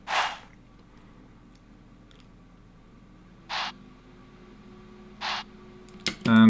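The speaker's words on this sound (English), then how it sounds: "So I have a heavy and a short chant." Heavy and short vocal chant samples in an FL Studio plugg beat play as brief breathy bursts, one at the start and two more spaced a few seconds apart, over a faint hum.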